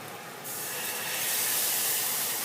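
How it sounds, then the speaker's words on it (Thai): Whipping cream poured into a pan of frying Thai curry paste sets off a loud, continuous hiss and sizzle that swells and holds steady. "ขาพัดพร้อมแล้วเขาก็จะใส่วิปปิ้งครีมลงไปค่ะ"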